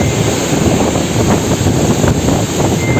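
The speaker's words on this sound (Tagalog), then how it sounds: "Hanggang ngayon sobrang lakas pa ng hangin." Strong, gusting typhoon wind roars continuously and loudly, buffeting the microphone with a dense low rumble and steady broadband noise throughout.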